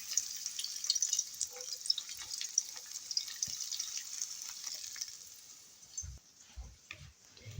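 Liquid, likely hot oil from a frying pan, poured over a bowl of Korean-style grated carrot salad, giving a steady hissing, sizzling pour followed by a few soft low thumps near the end.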